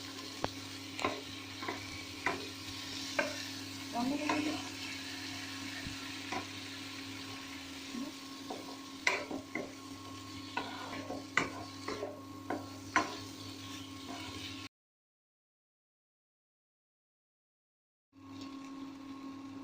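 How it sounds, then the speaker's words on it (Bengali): Chickpeas and kidney beans cooking for ghugni sizzle steadily in a pan while a spoon scrapes and stirs in irregular knocks, then a brief silence before the frying resumes. "এবার এটাকে ভালোভাবে কষিয়ে নিয়ে জল দিয়ে দেবো"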